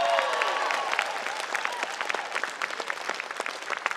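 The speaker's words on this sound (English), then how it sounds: "Another big round of applause for Malcolm Roberts." Audience at a community unity event in Gympie giving a big round of applause, dense sustained clapping from a crowd that carries evenly for several seconds, loud and close without speech over it.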